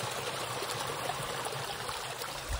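Stream water on the Appalachian Trail as a hat is dipped in, a close, steady rush and trickle of flowing water filling the moment without voices.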